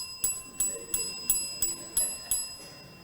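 Bells ring in a steady, evenly spaced series of about seven bright strikes, each followed by a short decaying shimmer, heard fairly softly with some room noise beneath.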